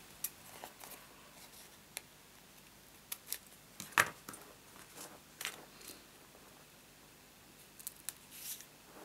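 Scissors snip through a stamped paper shape for a card, a few sparse, quiet cuts and clicks scattered across a hushed room.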